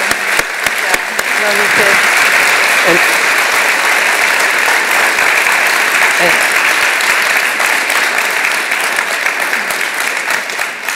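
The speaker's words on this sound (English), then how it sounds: "How about a big round of applause for these tremendous athletes?" Loud, sustained audience applause for the 1998 Olympic gold-medal women's ice hockey team at a panel event, clapping filling the room throughout while a voice briefly speaks underneath.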